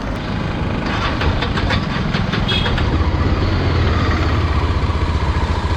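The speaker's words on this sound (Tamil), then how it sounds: "ஓகே, வண்டி நம்ம இப்போ ஸ்டார்ட் பண்ணியாச்சு." A Yezdi Adventure motorcycle engine runs at a steady idle after starting, a continuous low rumble with rapid mechanical ticking, fairly loud and close, with no talking.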